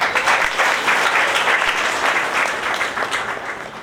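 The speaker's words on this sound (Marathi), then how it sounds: "आपण सगळ्यांनी टाळ्या वाजवूया." Wedding guests in a church clap for a newly declared married couple, a loud, continuous burst of close applause from a crowd that holds steady for a few seconds.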